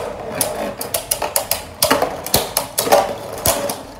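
Several Beyblade Achilles tops clatter and clash in a stadium after launch, a rapid series of sharp, bright clicks and rattling knocks spread across a few seconds, fairly close and with no talking.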